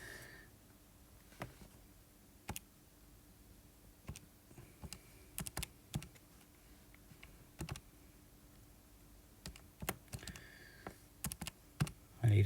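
Calculator keys are tapped while a math problem is worked, scattered sharp clicks in irregular bursts over a quiet background, close and fairly faint, with a sniff or two near the end.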